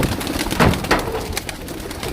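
Pigeons kept for sale at a bird seller's in Sarai Alamgir, Jhelum, Pakistan, coo in a few soft, throaty bursts against a steady, noisy background, with no talking.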